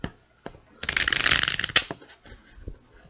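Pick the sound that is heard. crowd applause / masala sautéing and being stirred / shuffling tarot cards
shuffling tarot cards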